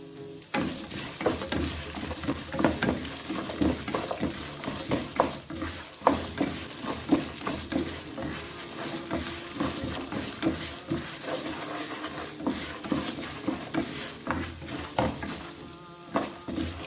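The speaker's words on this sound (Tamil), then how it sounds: "இப்போ என்ன பண்ணுறேன்னா இதில் பூண்டை அடுத்த முழுசாக இதை ஆட் பண்ணிக்கிறேன்." Whole garlic cloves fry in a pan for idli podi, crackling in a steady close sizzle while a spoon stirs and scrapes the pan repeatedly, with no voices.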